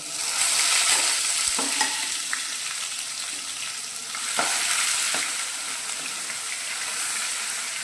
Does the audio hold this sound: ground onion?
yes